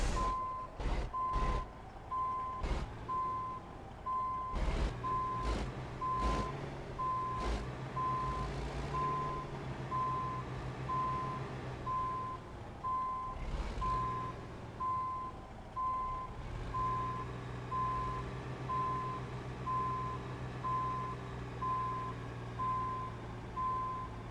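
A truck manoeuvring to park, its reversing alarm beeping steadily in an even, evenly spaced rhythm over a low idling engine, with a few sharp knocks and hisses early on and the engine note rising toward the end.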